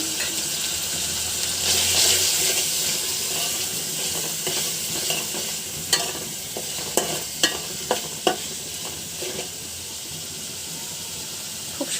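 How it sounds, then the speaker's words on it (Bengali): Turmeric, chili, coriander and salt sauté in a hot pan, a steady sizzling hiss with scattered stirring clicks and scrapes, close and continuous, no talking. "খুব সুন্দর করে কষিয়ে নিব।"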